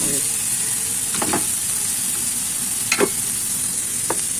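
Oil sizzling in a pan while cooking Filipino-style spaghetti, a steady bright hiss throughout with a few soft clinks and stirring sounds over it.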